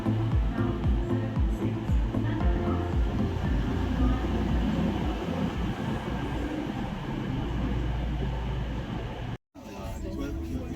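A train between Durham and York rumbles steadily along the tracks, a loud continuous interior drone with rattling, briefly cut off near the end before resuming.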